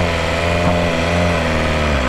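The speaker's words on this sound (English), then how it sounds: "I'm just gonna go ahead and give it some throttle and release the clutch" A BMW S1000RR sport motorcycle runs close by with a steady, buzzing engine note that holds through a throttle blip as the clutch is let out on a hill start.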